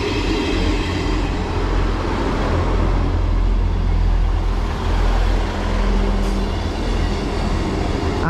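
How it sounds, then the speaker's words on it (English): East Midlands Railway class 158 diesel train on the Nottingham to Sheffield service arriving at a Derbyshire platform, with a loud, steady low rumble and rail noise filling the whole stretch. "now arriving is the 1603 East Midlands Railway service from Nottingham to Sheffield"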